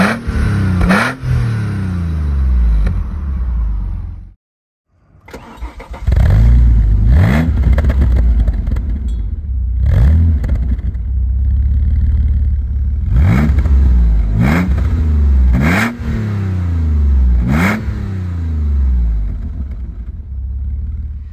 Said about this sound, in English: We can do like a before and after exhaust notes.